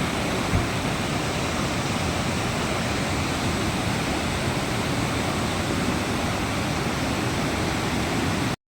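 Mountain water cascades down in Gudalur in the Nilgiris, a dense, constant rushing roar, loud and unbroken until it cuts off abruptly at the end.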